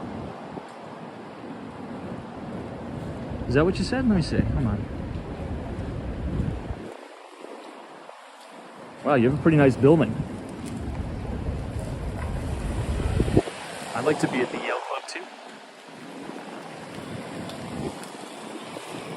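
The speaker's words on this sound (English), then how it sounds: "it is quite windy and it's starting to rain now" Gusty wind buffets the microphone on a New York City street as rain begins, a steady rumble rising and falling under bursts of someone talking.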